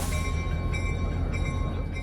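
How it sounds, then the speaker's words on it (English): A massive freight train on a farm's private railroad line rolls past with a steady, loud low rumble and a faint sustained tonal whine, continuous throughout. "now they're seeing this massive train come rolling down"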